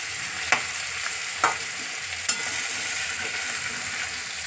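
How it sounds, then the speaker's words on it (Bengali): Steady high-pitched hiss of giant freshwater prawns sizzling in a hot pan, with a few sharp spatters and stirring knocks; no voices. "চিংড়ি মাছটা একটু ভাজা হোক"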